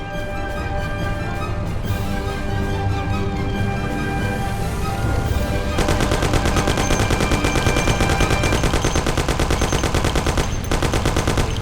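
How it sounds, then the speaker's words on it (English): Thompson submachine gun fire in the Mafia: The City of Lost Heaven game, heard under music and a steady engine drone at first, then sustained rapid automatic bursts rattling loud and close for several seconds with a brief pause. "Take my Thompson. You and Sam shoot them."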